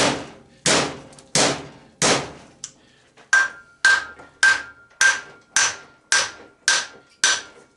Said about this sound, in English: hammering on that shaft, it is starting to move a little bit there